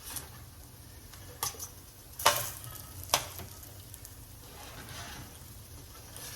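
Salmon patties frying in a pan give a steady sizzle throughout, broken by a few sharp metallic clinks and scrapes of a spatula as they are turned.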